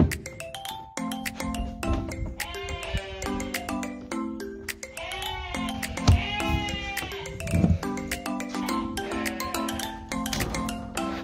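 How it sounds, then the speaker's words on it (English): Weaned ewes and lambs bleat repeatedly at a sheep shed before shearing, many overlapping calls near and far, with occasional metallic clinks between them. "Here are the ram lambs for shearing."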